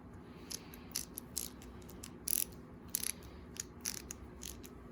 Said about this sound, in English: My old Craftsman Ratchet is back in business.